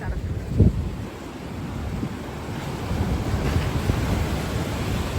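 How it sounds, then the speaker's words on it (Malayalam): Strong night wind and a rough sea at Shankumukham beach: a steady, loud roar of surf under constant wind buffeting the microphone, with one brief gust thump early on. "രാത്രി പന്ത്രണ്ട് മണിയാണ് കടല് കണ്ട ഭയങ്കര കാറ്റും ഭയങ്കര പ്രക്ഷുബ്ധമാണ് കടൽ"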